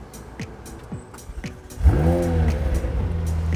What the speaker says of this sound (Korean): 이렇게 시동을 켜자마자 엔진 소리가 확 올라오면서 부릉 하는 소리를 혹시 들으셨나요?